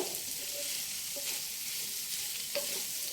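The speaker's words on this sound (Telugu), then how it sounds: "ఈ మసాలాలు చక్కగా అల్లం వెల్లుల్లి ఉల్లిపాయ ఇవన్నీ చక్కగా వేగాలి కాకరకాయతో పాటుగా." Bitter gourd fries in a pan with ginger, garlic and onion masala, giving a soft, steady hiss of sizzling oil with a few faint scraping stirs.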